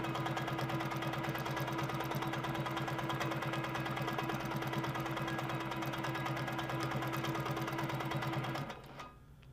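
An Amara ST sewing machine on a lift table stitches steadily in manual mode, run by foot pedal, with a continuous close mechanical hum and rapid needle rhythm that stops abruptly near the end.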